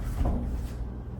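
A short, low rolling rumble as a heavy barn-style sliding door, made from a regular interior door, slides along its track in a pantry, then quiets to faint room noise.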